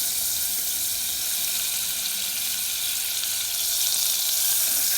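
Fat melting in a pan to start a béchamel sauce for a meat buğu kebab, giving a steady, close, even sizzle that holds unbroken, with no talking.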